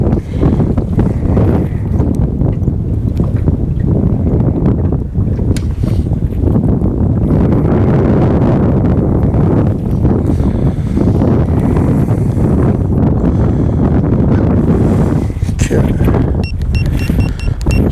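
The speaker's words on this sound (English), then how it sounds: "Wind is kind of pushing me" Gusty wind on a lake buffets the microphone in a loud, continuous roar, rising and falling across the whole stretch with no voices.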